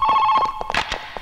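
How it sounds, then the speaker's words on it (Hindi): An old telephone bell rings indoors in a Hindi film scene, loud and close, sounding in quick repeated bursts with some other faint sounds mixed in. "तेरे घर में फोन की घंटी बज रही है।"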